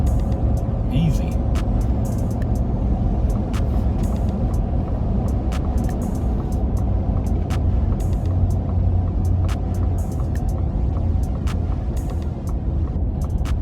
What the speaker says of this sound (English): Little bit of road noise being lowered, but like I said, it's not much